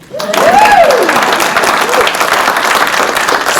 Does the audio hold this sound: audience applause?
yes